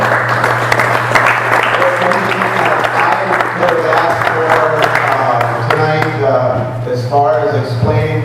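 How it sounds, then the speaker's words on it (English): Sustained applause from a crowd at a town forum on frac sand mining, steady clapping filling the space throughout with some voices mixed in. "give them a nice round of applause"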